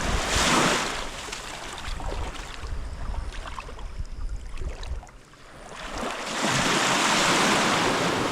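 Sea waves wash onto a sandy beach with clear water, a close, loud rushing surge at the start, a quieter stretch with some wind noise, then another swell of breaking surf at the end.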